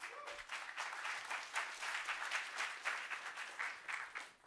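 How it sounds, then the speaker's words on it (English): A conference audience at an augmented reality expo applauds, a dense continuous patter of many hands clapping at moderate distance, swelling and steady throughout with no voices on top. "members of the team are in here, so they appreciate your applause"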